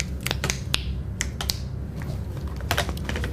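Sharp hand claps marking sync at the start of a podcast recording, several quick, dry cracks scattered over a low steady hum, with no talking.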